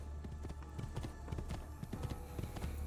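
Horse galloping across the Tuscany countryside in Assassin's Creed 2, a fast continuous run of hoof thuds in steady rhythm, close and fairly loud, under a low ambient background with no talking.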